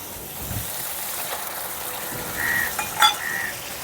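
Spices with tomato paste fry in a pan for a Bengali mustard pabda fish dish, giving a steady close sizzle with a few light clinks of a utensil near the end.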